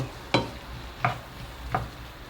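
Chopped peppers hit a pan in three separate scraping bursts, each followed by a soft sizzle over low background noise.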